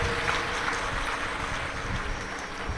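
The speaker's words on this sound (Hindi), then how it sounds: "एक बार जोरदार ताली बजाकर" Dense applause from a large audience at a live Shiv Mahapuran katha gathering in Madhya Pradesh, a steady wash of clapping that holds loud and even throughout, with no pause or voice over it.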